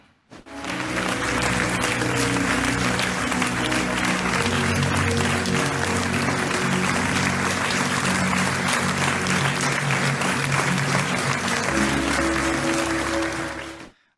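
An audience applauds at length after a screening of a Ukrainian film in Canada. The clapping is loud, dense and sustained, with a steady low background hum underneath.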